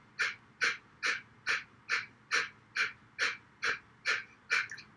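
Forceful, sharp exhales during a breathing exercise, about a dozen evenly spaced puffs of air at a quick steady rhythm, close and clear with no speech.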